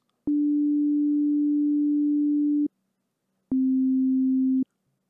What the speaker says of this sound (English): a sine wave is basically singular frequency